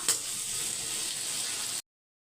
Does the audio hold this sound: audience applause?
no